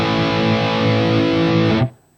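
Electric guitar played through an Ibanez overdrive pedal with the tone control turned fully up: a loud, bright, sustained distorted chord that rings steadily, then is cut off abruptly near the end.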